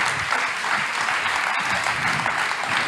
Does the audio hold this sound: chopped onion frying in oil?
no